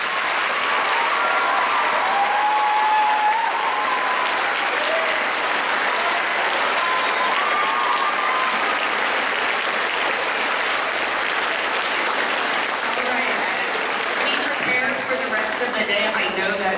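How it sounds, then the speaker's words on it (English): An event audience gives a long, loud round of applause that holds steady for about seventeen seconds, with dense overlapping claps and scattered voices mixed in. "Let's give her one more round of applause."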